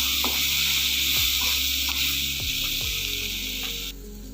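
Ground spice powder being stirred into a capsicum and peanut curry in a pan, with a steady loud sizzle throughout and a few scraping strokes of the spoon, easing slightly near the end.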